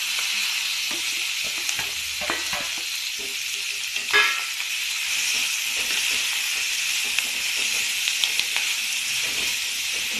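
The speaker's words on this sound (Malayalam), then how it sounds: "ഇതിലേക്ക് നമുക്ക് ഈ നുറുക്കിയേച്ച വെണ്ടയ്ക്ക ഇട്ട്" Chopped okra fries in a hot pan for a Kerala-style stir-fry, with a continuous soft sizzle and hiss, scattered crackles, and one brief louder clatter of stirring partway through.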